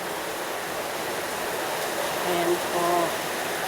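Rain that has kept falling for about three weeks makes a steady, even hiss throughout, with a short stretch of speech rising over it near the end.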